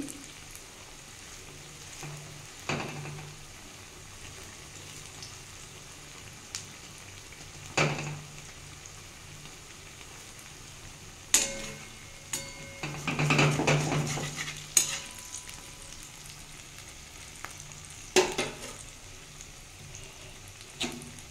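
Masoor dal and coriander leaf pakoras frying in oil, a faint low sizzle throughout with sporadic metallic clinks and scrapes of a utensil against the pan, no voices.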